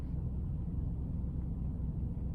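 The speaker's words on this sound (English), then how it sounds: "Basically very large diesel-powered refrigerators." Diesel-powered refrigerated truck units run close by, a steady low rumbling drone with a constant engine hum, no distinct events, continuous throughout.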